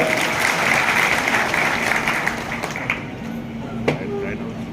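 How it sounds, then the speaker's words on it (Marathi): Steady applause from a crowd at a Nationalist Congress Party workers' rally in Ambegaon–Shirur, sustained and fairly loud, tapering slightly toward the end. "टाळ्या जरा जोरात वाजवा"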